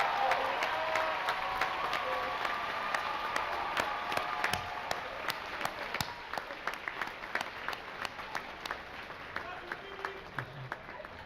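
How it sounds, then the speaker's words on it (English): An audience applauds at the Claflin University 2017 commencement ceremony, with sustained moderate clapping from a large hall that thins out into scattered individual claps toward the end. "allow us to applaud you for your support of our students"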